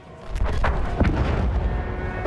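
A turret cannon in the Battlefield 1 video game fires at a train, producing a few deep booming blasts in quick succession over a continuous low rumble of battle, loud and close.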